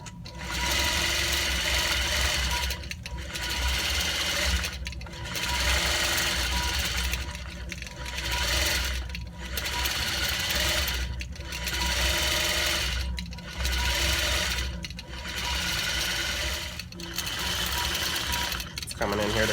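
A sewing machine quilting along a quilt border runs loud and close in long steady whirring stretches of rapid stitching, pausing briefly about every two seconds before resuming.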